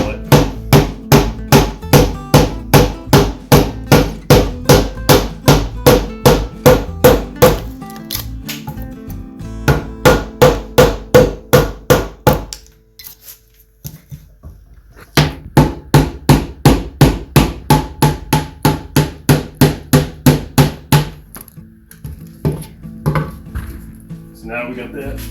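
Rapid, evenly spaced sharp knocks of a chisel chopping out a wood mortise, continuing in long steady runs with a brief pause partway through.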